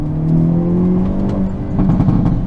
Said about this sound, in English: And just hearing that backfire